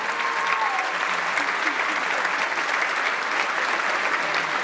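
Loud, steady applause from a crowd, continuous clapping filling the whole stretch without pause.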